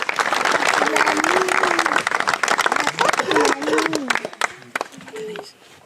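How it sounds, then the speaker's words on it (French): Wedding guests applaud the couple in a dense burst of many hands clapping that gradually thins and fades, with a voice speaking over the crowd. "Vous pouvez les applaudir"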